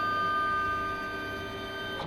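A diamond drag engraving machine homes itself, its motors producing a steady, close electronic whine with layered tonal hum and faint ticking that holds evenly across the short span.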